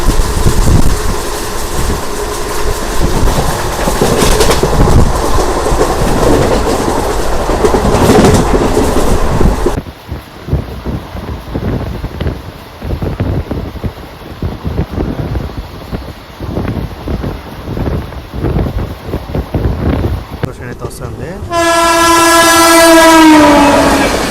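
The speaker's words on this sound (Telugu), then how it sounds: "ఆ ట్రైన్ వచ్చేసి సేలం జంక్షన్కి అయితే వచ్చేసింది" A Tirupati–Coimbatore Intercity Superfast Express train arriving at Salem Junction rumbles loudly with steady rail clatter and wind buffeting, then its horn blares in a long, bright blast near the end.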